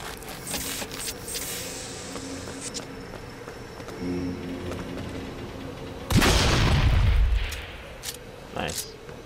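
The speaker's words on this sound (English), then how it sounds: "Fireworks, set off the fireworks." Fireworks go off in the video game BioShock Infinite: a sharp, loud explosive burst with a long crackling, rumbling tail near the end, after quieter scattered pops and ambient game sounds.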